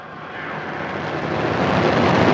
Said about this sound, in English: Engine start has been initiated.